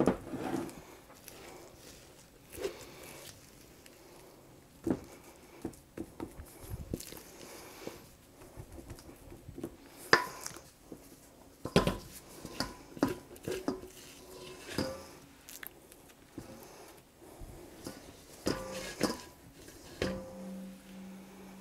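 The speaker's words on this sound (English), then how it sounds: "Now we're going to take that batter and just spoon it into our bread pan" Cheddar cheese bread batter is spooned into a bread pan with repeated scrapes, soft thuds and clinks of the utensil against the pan and bowl, irregular and close over many seconds.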